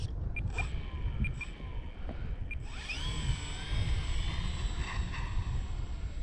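An E-flite Valiant RC airplane flies overhead, its thin whining electric motor rising and falling in pitch as it passes, steady and moderately distant against wind noise.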